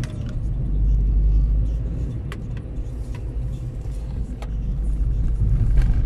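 A car drives straight along Żmigrodzka Street in Wrocław through the Kamieńskiego junction, heard from inside as a steady low engine and road rumble that swells slightly and stays even, with a few faint clicks.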